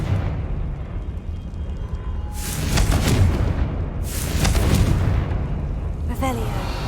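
Two big fiery blasts from the Confringo spell in Hogwarts Legacy, each a loud broadband roar of a second or so, with a smaller sharp crack near the end, over a steady low rumble of game ambience.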